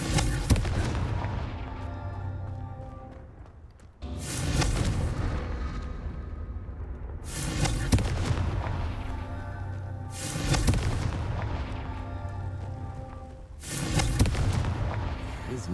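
Confringo fire spells in Hogwarts Legacy burst in a steady series of about five loud, booming blasts, each with a sharp attack and a long rumbling tail, spaced roughly three seconds apart.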